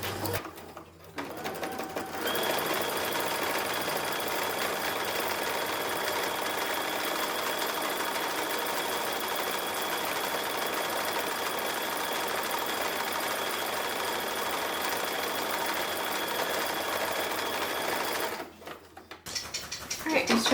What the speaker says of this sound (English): just finished sewing all 12 ties